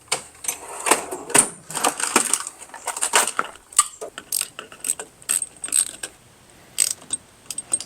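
A 10mm wrench tightening a bolt on a paddleboard motor mount, a quick series of close ratcheting clicks in short irregular bursts with brief pauses between turns.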